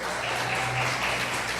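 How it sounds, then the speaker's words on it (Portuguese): A church congregation claps together in worship, a dense, steady wash of applause that fills the whole brief moment with no voice on top. "Vamos aplaudir o Senhor bem forte"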